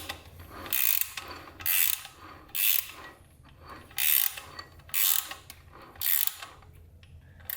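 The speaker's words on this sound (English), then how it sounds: "I'm going to tighten the band until it has resistance" A ratchet wrench clicks in steady, evenly spaced bursts, about seven in a row, while the band on a 4L80E transmission is tightened up close.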